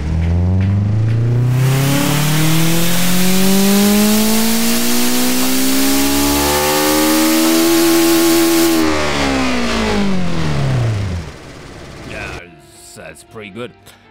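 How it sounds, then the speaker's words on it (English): Simulated car engine in the game Automation revs up through an auto pull, rising steadily in pitch for about nine seconds, then dropping away and falling silent, with a few sparse sounds at the end. "Let's do an auto pull and you tell me if it sounds okay."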